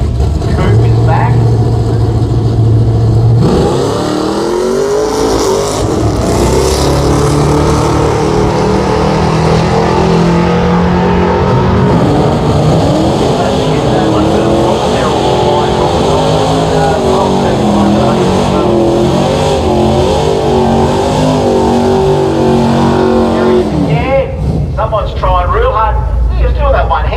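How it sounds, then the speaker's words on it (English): A big six-cylinder Mopar coupe with a manual gearbox accelerates hard through the gears, its engine note rising and dropping at each shift. It is loud and continuous throughout, and a commentator talks over it. "Rowing through the manual gearbox here, the six-banger."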